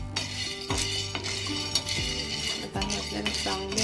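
Val beans dry-roasting in a pan for Maharashtrian bharang leaf curry, with a spatula scraping and clinking against the metal in steady repeated strokes, close and moderately loud, no talking.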